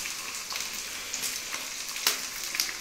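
Vegetables such as beans, capsicum, carrot and onion fry in a pan for egg fried rice, giving a steady, moderately loud sizzle with a few sharper crackles and no one talking.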